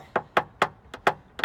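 Short metal taps knocking down high spots in a dent on a Jeep Renegade panel, six crisp evenly spaced knocks at close range with a rag deadening the sound.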